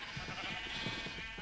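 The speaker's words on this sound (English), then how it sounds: "let the sheep out" Sheep bleating in the video game Minecraft: a faint, wavering bleat blended into a dense, noisy background, with no talk.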